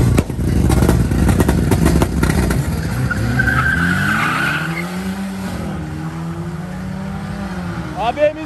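Tires skid and squeal as a turbocharged Volkswagen Beetle brakes hard on a drift course, with a continuous loud engine roar that sweeps through shifting tones; people talk over it in the crowd.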